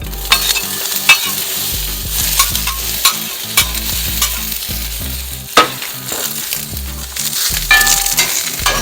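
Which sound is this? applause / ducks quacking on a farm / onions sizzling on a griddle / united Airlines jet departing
onions sizzling on a griddle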